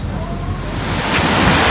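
A loud, steady roar of big ocean surf at La Jolla, California washes in, with wind rumble buffeting the microphone.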